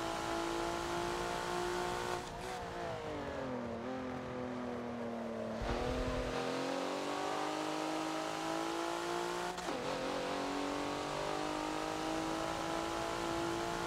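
Race car engine in the Forza video game at Hockenheimring short track, a loud steady drone with pitch dipping on lifts and rising again as the throttle reopens, shifting at several points through corners.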